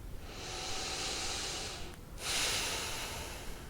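Two long, steady breaths with a short pause between them, the second louder, taken during an EFT tapping session on the sides and back of the head. Breathy and airy, close to the microphone, with no talking.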